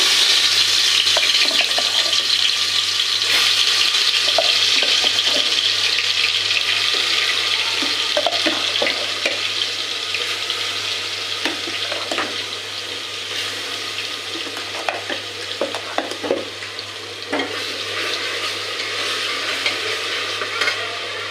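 Spices including turmeric, cinnamon powder, cloves and peppercorns frying in hot oil in a pan, a loud, dense, steady hiss of sizzling close up with occasional scrapes and clinks of stirring, no talk.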